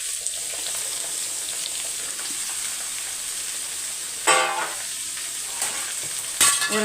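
Chopped cabbage frying in a pan, a steady bright sizzle throughout with a couple of louder stirring scrapes near the end, close by and fairly loud, no talk.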